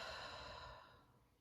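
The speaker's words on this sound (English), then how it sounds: "And exhale, let it all go." A long, soft exhale during a guided breathing exercise, a breathy rush that starts fairly strong and slowly fades out over about a second and a half, heard alone.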